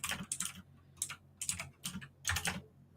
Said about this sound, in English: my clickety-clackety keyboard too noisy